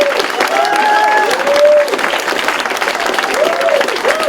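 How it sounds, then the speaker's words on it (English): At a Pecha Kucha presentation night, an audience applauds the presenters in a steady wash of clapping, with some voices and a few whistles over it. "Please give them all a round of applause."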